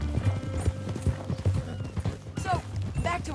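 Horse hooves clip-clop steadily along a trail in the Red Dead Redemption 2 video game, with a brief whinny and someone talking over the rhythmic hoofbeats.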